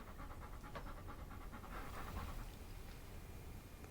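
A dog pants rapidly and steadily close by, a continuous breathy rhythm lasting throughout, with no talking.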